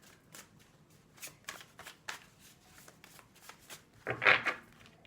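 Oracle cards being shuffled by hand, a run of soft, quick riffling flicks that builds to a louder, denser burst near the end, close and alone without talk.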